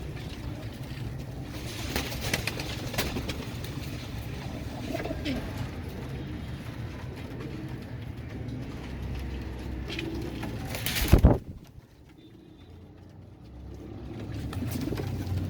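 A large flock of Royal Teddy pigeons cooing together in a loft, a steady low murmur that cuts out sharply after a loud bump near the end, leaving near silence before the cooing slowly returns.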